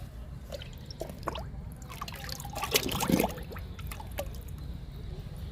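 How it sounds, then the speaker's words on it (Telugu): Liquid fertilizer for flowering plants pours and trickles into a container, a soft uneven dribble with scattered drips that peaks briefly midway, alone and fairly quiet. "డబ్బాలో పోస్తున్నా."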